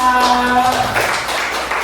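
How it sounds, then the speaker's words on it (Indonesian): A classroom of students claps for classmates after their group presentation, a dense, brief burst of applause mixed with faint voices and a tonal hum, fading toward the end. "sekali lagi kasih tepuk tangan dulu buat temannya"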